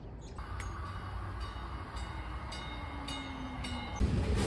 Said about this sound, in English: This is a pretty cool shot of the train just leaving.